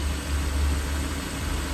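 Jeep Grand Cherokee 3.6 V6 engine idling, 2011 to 2018 model after an oil pressure switch replacement, a steady low rumble with a broadband whir, close and unbroken.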